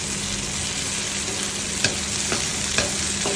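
Onions saute in a frying pan with a loud, dense sizzle and spatter. A few sharp scrapes or taps from a utensil stirring them stand out above it.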